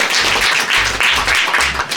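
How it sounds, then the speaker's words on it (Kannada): Applause rises for six children at a special-needs school's eighth anniversary celebration, a dense, steady wash of many hands clapping, with low thumping bursts recurring underneath. "ಬರ್ಲಿ 6 ಮಕ್ಕಳು ಜೋರ್ ಚಪ್ಪಾಳೆ."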